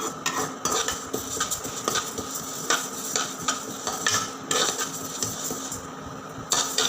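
Moong dal lentils dry roasting in a pan, with repeated scraping and light clinks of a spoon stirring the dry grains, no oil hiss, at a moderate level.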